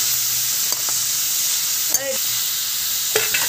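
Dry vegetables fry with a continuous sizzle in a pan, broken by a few sharp scrapes and clinks of a stirring spoon, loud and close with no talking.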